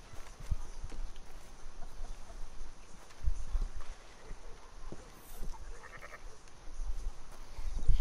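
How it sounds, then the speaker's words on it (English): A sheep bleats on a Red Dead Redemption 2 farm near a barn with cattle and chickens, the faint calls heard amid steady hooves and outdoor ambience. "There's a sheep."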